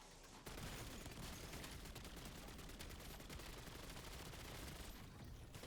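Mammoth LMG gunfire in Black Ops 7 Zombies, a continuous rapid stream of machine-gun shots lasting several seconds, dense and steady at fairly low volume.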